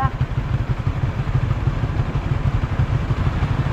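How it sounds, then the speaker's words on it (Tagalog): A motorcycle engine runs steadily nearby with a low, throbbing pulse, rough clatter on top, and voices talking over it. "Ito na yung makina."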